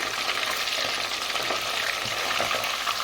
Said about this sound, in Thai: ทอดทั้งหมูสามชั้นทั้งเนื้อแดดเดียว